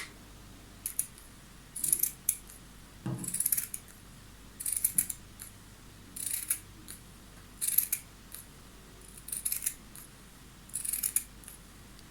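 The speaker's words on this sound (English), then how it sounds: "For the neck piece, I'm going to measure 32 centimeters and cut." Scissors cut fabric for the neck piece of a blouse, snipping in short bursts of two or three crisp, close cuts repeated at a steady pace over a quiet room, with one dull knock early on.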